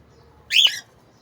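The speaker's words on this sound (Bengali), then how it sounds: "ও একটা ফিমেল ককাটেল" A tame female cockatiel gives one bright, close chirp lasting about a third of a second against an otherwise quiet room.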